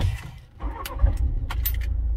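A 2021 Volkswagen T6 commercial van engine cranks and catches after the ignition key is turned, a short starter churn settling into a steady low idle, close by.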